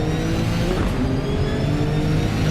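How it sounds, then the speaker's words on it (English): A Nissan GT-R racing car in a racing video game at a circuit, its engine droning loudly and steadily under acceleration with a constant rising whine, close and unbroken for the whole stretch. "The full power of the Nissan GTR"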